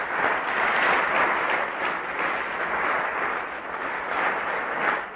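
A church congregation applauds during a sermon on marriage, a continuous even roar of many hands clapping together, sustained at steady loudness from start to finish.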